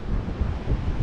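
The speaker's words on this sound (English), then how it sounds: "it's still pretty windy" Strong wind buffets the microphone on a beach on the Florida National Scenic Trail at the Northern Terminus, a dense low roar blending with choppy ocean waves, steady and close with no voices.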